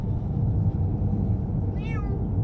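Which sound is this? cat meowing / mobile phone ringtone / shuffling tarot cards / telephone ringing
cat meowing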